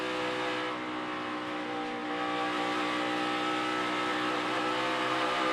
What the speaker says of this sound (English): I love listening to that throttle and listening to these drivers work it